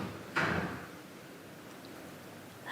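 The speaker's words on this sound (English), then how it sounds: "I think it's the quarantine room door in that case." A quarantine room door in the quiet corridor of an old bed and breakfast opens or shuts with a single short, moderately loud thud and rattle, followed by near silence, with no voices.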